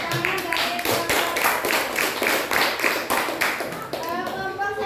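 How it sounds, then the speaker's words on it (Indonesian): A group of students claps steadily and rhythmically for group 1 in a classroom simulation, the applause continuous and fairly close, with some voices mixed in. "tepuk tangan dari kelompok"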